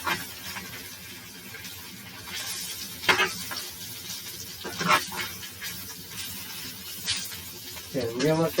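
A salmon fillet pan-frying to a golden crust: a steady, fairly soft sizzle and hiss with occasional sharper crackling spits, while a voice talks over it.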